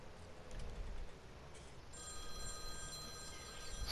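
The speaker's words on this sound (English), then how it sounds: "my phone is calling" A phone ringtone begins partway through, a steady electronic ring that is fairly quiet over a low background hum and swells slightly toward the end.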